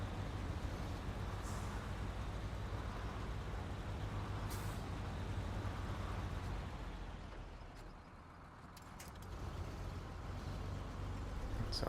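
A heavy truck in the SnowRunner game idles with a steady low engine rumble, and short hissing bursts of its air brake release come through near the start and middle. No voices are heard.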